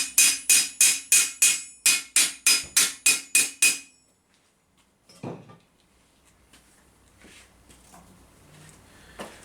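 Rapid, evenly spaced metallic hammer strikes on medieval armour steel ring out about a dozen times, then stop, followed by quieter clinks and handling noise.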